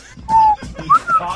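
A man whistles short, thin tones in quick fragments, one held note then two brief rising chirps, close to the microphone with voices talking under and around them.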